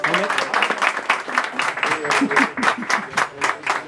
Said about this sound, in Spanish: Y ese aplauso.